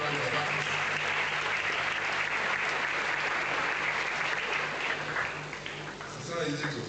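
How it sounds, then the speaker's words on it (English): A hall audience at a University of Benin inaugural lecture gives sustained applause for a woman professor, a dense, even wash of clapping that dips briefly near the end before swelling again, with faint voices underneath. "I think we should give her a round of applause."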